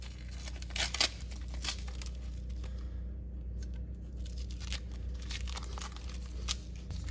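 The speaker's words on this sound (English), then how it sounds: "We're gonna pull all of our tape off." Masking tape peeling and tearing off a powder-coated Ford F250 axle during an axle pivot bushing replacement, with crinkly rips and crumpling, a sharper burst near the start and another toward the end, no talking.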